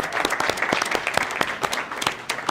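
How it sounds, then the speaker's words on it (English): Audience applause at the grand opening of The Gerald, a dense run of hand claps under light crowd noise, moderately loud and steady throughout. "I do want to make a quick round of applause for Mohammed Agab and Eric White"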